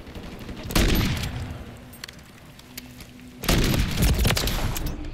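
Two heavy gunshots in Call of Duty: Modern Warfare III, each a loud close blast that rings out and decays over a couple of seconds, with quieter game ambience between them.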